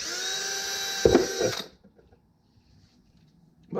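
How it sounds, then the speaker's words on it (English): A power drill whines steadily, bites briefly into a plant pot with a rougher burst while boring drainage holes, then cuts off into near silence before starting again. "I take my little drill motor and I drill some drainage holes down here"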